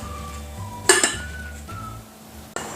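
A metal lid clanks onto a pot of veggieball mixture with a bright ringing clatter, followed a moment later by a second lighter clink, over a low kitchen hum.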